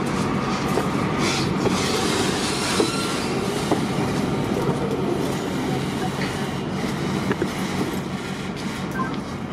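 Grain wagons, formerly Pacific National stock, shunted by locomotives at a station, giving a steady loud rumble of rolling rail cars with faint clicks and wheel squeals throughout.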